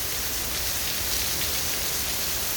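Steady rain pouring down in Bangkok, a dense even hiss of drops hitting a surface, constant and fairly close with no voices.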